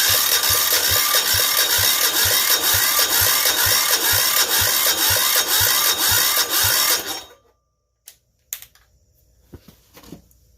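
A Yanmar L100 diesel generator spins on its starter in a long, steady crank of rapid, even compression pulses lasting about seven seconds, then cuts off, leaving a few faint clicks and knocks.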